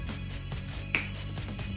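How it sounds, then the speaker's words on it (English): A single sharp finger snap cracks once, close and crisp, against a low steady hum in a quiet room. "I'll just snap my fingers"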